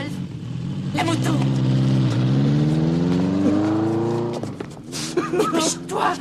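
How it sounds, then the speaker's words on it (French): A stolen motorcycle engine revs hard with a rising whine, roars steadily for several seconds, then drops off before scattered clatter follows, with voices shouting over it. "Dépêche-toi, on nous pique la moto."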